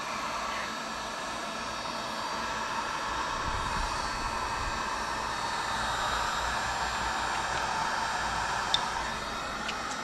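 A heat gun runs steadily at close range while warming a plastic piece to plug a hole in a Can-Am X3 body panel, giving a continuous even blowing whoosh with faint ticks and no pauses.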